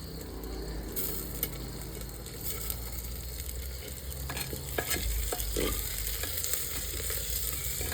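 Tomatoes are stirred into onions frying in a clay pot over a wood-fired chulha for village-style khichdi, with a spoon scraping and knocking over a low, steady sizzle.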